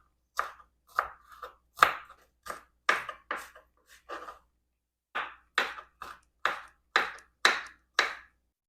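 A knife chops tomatoes finely on a cutting board for shakshuka, with crisp separate strikes in an irregular rhythm, close and clear with short pauses.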